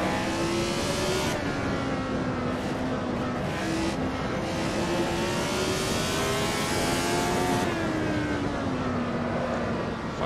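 A Lotus 72 racing car in the Assetto Corsa video game holds a loud, continuous engine drone that shifts pitch slightly as the car takes a final corner, with no speech heard.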